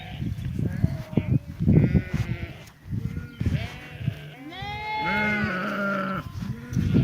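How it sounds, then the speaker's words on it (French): Ewes bleat repeatedly, calling for their lambs as the flock moves up toward the forest, with overlapping near and farther cries, some long and wavering, over light outdoor background. "Donc là, elles appellent leurs agneaux parce que dans le déplacement, il y en a qui perdent leurs agneaux."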